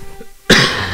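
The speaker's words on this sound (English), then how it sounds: "I've got a cough" A single sharp, close cough bursts out suddenly halfway through after near silence, with no talk around it.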